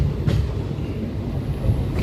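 Train running on rails near Vidisha, heard from inside on a foggy journey, a steady close rumble of wheels with faint clacks and no talking.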